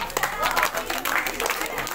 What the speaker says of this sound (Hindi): नीशू रैन के लिए दो हजार तालियां